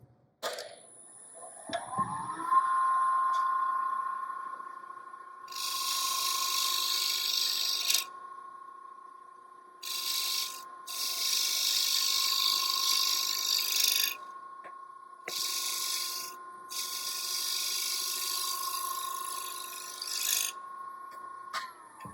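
A wood lathe spins up to a steady hum, and a negative rake scraper rasps against the turning wood in several long, even passes with brief gaps between them.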